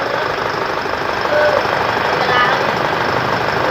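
A freshly rebuilt car engine runs with a rough, rapid knocking clatter at startup before oil has circulated, loud and close, steady throughout.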